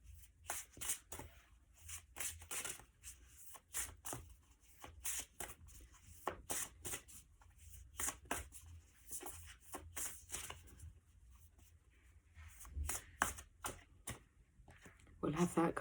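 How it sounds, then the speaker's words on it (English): Cards being shuffled over and over, bursts of quick riffling and flicking with short pauses, close and fairly soft. "Let's give these cards a shuffle."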